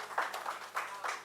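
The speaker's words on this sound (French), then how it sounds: "Il faut applaudir également Madame qui l'accompagne" An audience claps at a book dedication event. Scattered hand claps come in loose bursts over a little more than a second, close and moderately loud, with faint voices underneath.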